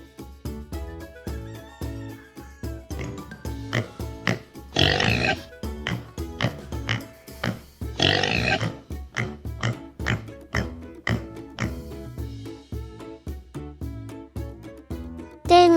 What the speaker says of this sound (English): Look who's here, the pig.